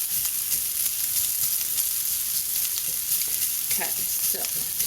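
Food warming and sizzling in a cast iron skillet, a steady hiss of frying with faint stirring scrapes near the end, no talking.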